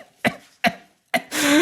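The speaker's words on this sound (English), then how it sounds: "that's a lot of coughing" Three sharp, harsh coughs in an even rhythm, close and loud, followed by a strained, breathy wheeze or gasp at the end.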